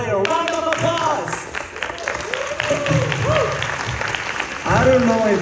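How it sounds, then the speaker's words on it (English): Audience applause during a stage performance of The Great Gatsby, a crowd clapping steadily while actors' voices carry over the top and the clapping swells again near the end. "Round of applause."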